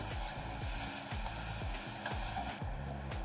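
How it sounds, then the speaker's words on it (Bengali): Spice masala with turmeric and salt sizzles while being sautéed in a pan for a Bengali catfish curry, with a soft continuous fry and faint rhythmic stirring, no voices. "তো ভালো করে আমি কষিয়ে নিচ্ছি"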